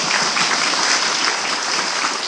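Loud applause fills a church service, a dense, continuous patter of many hands clapping together at close range without speech.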